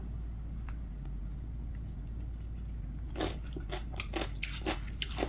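Watermelon rind kimchi tossed with onion is bitten and chewed near the mouth. A quiet stretch comes first, then about a dozen crisp, wet crunches follow at an uneven pace.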